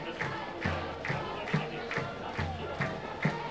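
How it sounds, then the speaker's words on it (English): Brickies supporters at a football game cheer and shout in rhythmic bursts, a distant crowd rising and falling at a steady pulse with a drum-like beat underneath. "As a Brickie crowd is getting excited, cheering on their team."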